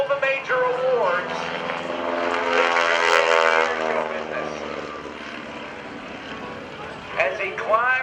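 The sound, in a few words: propeller airplane performing at an airshow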